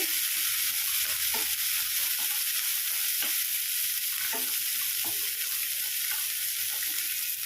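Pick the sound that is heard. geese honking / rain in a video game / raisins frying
raisins frying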